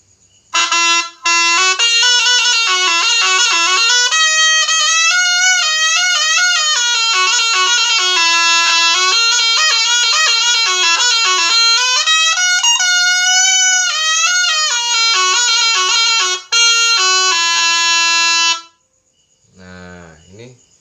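Slompret, a Javanese reed trumpet, blown in a loud, nasal, buzzing stream of wavering melodic notes for about eighteen seconds, with brief breaths between phrases, followed by a short low voice.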